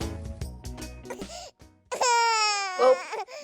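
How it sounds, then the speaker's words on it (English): Infant vocalizing close up, with short babbling cries and then a longer rising, tonal wail; no speech. "Well, there goes the baby. She just started crying."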